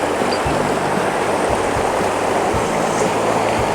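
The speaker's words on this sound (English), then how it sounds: "I'm going to bring you down here to the Big Wood River and let you see that." The Big Wood River in Idaho runs low over its bed, a steady broadband wash of flowing water filling the scene, close and continuous with no voices.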